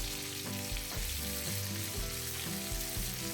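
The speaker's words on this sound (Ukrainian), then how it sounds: "Шкварчать наші котлетки на пахощі на всю оселі." Homemade meat patties frying in a pan, a continuous close sizzle and crackle of hot oil, with rhythmic scraping or stirring knocks throughout and no talking.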